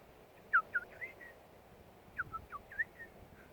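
A person whistles a short tune in two quick bursts of chirpy, sliding notes, close and clear over a soft background hiss, with no talking.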